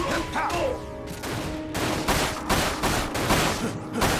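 Rapid gunfire in the Dirge of Cerberus: Final Fantasy VII video game, shots volleying loudly and continuously throughout with dense bursts, close and busy, with a little game noise mixed in.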